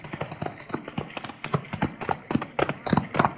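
Several horses approach with rapid, clear clip-clop hoofbeats in a quick uneven rhythm, fairly close and growing, with no talk over them.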